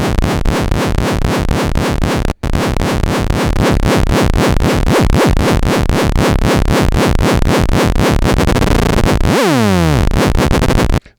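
Korg Monologue synth tone with the LFO sweeping both oscillators' pitch together, a loud rhythmic pulsing warble that repeats steadily, briefly cuts out, then ends in a rapid descending pitch sweep.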